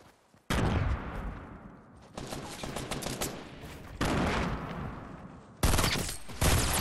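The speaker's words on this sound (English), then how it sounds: "we get shot from the north." Bursts of gunfire in the video game Fortnite crackle close and loud in several long volleys, each starting abruptly and trailing off, with brief gaps between them.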